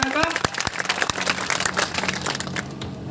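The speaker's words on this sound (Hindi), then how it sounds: "तो जोरदार तालियों से स्वागत करें आपके ऐसे नेता का।" An audience at a temple inauguration ceremony applauding a leader, a crowd of dense, crackling claps close by that continues steadily, with a voice talking over it.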